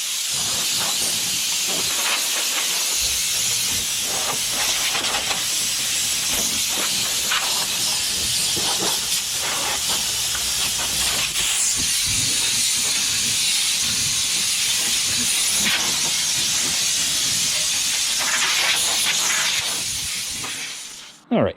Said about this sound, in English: maybe I'll grab the shop vac and we'll clean this out a bit